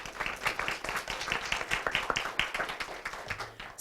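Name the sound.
audience round of applause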